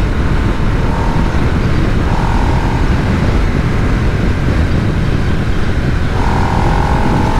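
A 2022 Harley-Davidson Nightster 975 motorcycle engine drones steadily and loudly while riding, with rushing wind noise and a faint rising whine from the revs.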